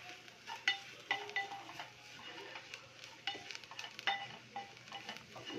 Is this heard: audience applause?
no